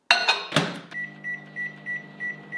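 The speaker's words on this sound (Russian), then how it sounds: "Ставим микроволновку на 3 минуты." A couple of loud clunks from a microwave door and buttons, then the oven hums steadily with a repeating soft pulsing tone while cooking macaroni.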